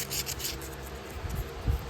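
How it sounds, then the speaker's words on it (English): Sandpaper rubbing over the channels of a restored 1980 Case 6318 tractor, a steady close scraping hiss with a few heavier strokes near the end. "just a little bit of sandpaper usually does the trick"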